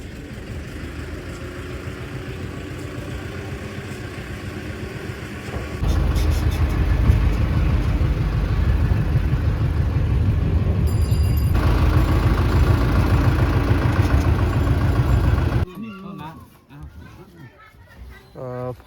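A tractor engine runs loudly and steadily near polling-duty staff on election day in Dhubri, Assam, a dense rumble that starts abruptly and holds for about ten seconds before cutting off.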